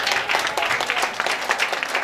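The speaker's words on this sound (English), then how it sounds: "Rise on your feet with a clap of let's make welcome." A church congregation rises and claps together in welcome, a dense, continuous burst of loud applause filling the room with no pause.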